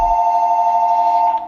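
A telephone rings in the film Smile, a single steady electronic bell tone, loud and close, holding evenly before cutting off abruptly.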